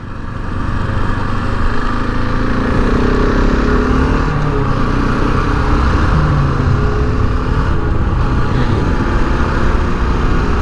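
A KTM 690 Enduro single-cylinder motorcycle ridden on a Minnesota street, its engine droning loud and steady throughout with rushing wind noise, close to the rider, no talk.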